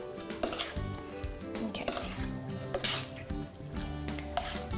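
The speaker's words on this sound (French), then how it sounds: "je vais mélanger les pâtes dans la sauce" Pasta being stirred into a rich, protein-packed cottage cheese cream sauce in a pan, with utensil scrapes and clinks against the pan over a steady low sizzle, close and continuous, no talking.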